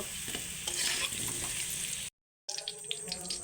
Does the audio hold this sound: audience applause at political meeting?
no